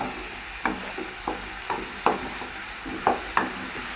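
Potatoes frying in oil, browning in a pan, with a steady low sizzle broken by a series of sharp clinks and scrapes from stirring at irregular intervals, close by, with no voices.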